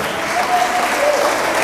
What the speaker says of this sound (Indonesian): Berikan sorak-sorai buat Tuhan Yesus yang dahsyat